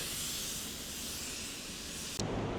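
A spray gun sprays silver metallic paint with a steady, close hiss that runs continuously before cutting off sharply near the end, followed by a brief shift in tone.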